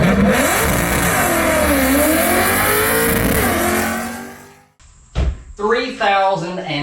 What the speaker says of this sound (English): He's going to wing the wheel out and sidestep the clutch and watch what happens.